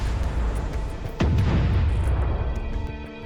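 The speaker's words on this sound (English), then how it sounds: "The B-59 became surrounded by explosions that rocked the submarine." A sharp boom at about 1.2 seconds rises over a dense, rumbling low-frequency din: depth charge explosions rocking a submarine in a film drama set during the standoff of the B-59 submarine, with the heavy blast ringing out and then fading.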